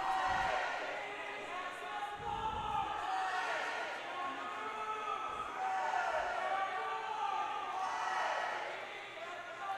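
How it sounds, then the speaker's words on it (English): Student section cheering and shouting at a girls high school volleyball game, a lively crowd roar filling the gym in the background while a commentator talks over it. "we got the student cheering section going a little bit"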